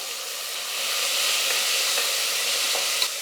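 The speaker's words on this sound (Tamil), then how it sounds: "இப்போ தக்காளி வெங்காயம் எல்லாம் சேர்ந்தா போல் நல்லா வந்து வதங்கணும்" Tomatoes and onions with green chillies sauté in a pan for a Coimbatore-style rice and dal dish, giving a steady, close sizzling hiss with a few faint scrapes of stirring and no voices.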